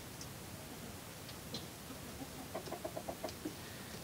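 Chickens clucking softly while pecking at and eating small fine feathers from their bedding, a quick run of faint, close clucks and light taps over low background noise.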